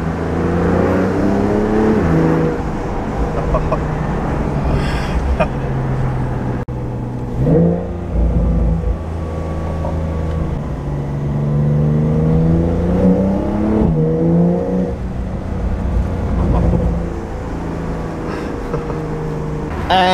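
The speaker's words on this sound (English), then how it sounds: "Porsche sounds too good." A Porsche 911 992 Carrera T engine revs while driving, rising and falling through several strong acceleration pulls with gear changes. It is loud and sustained under steady road and wind noise.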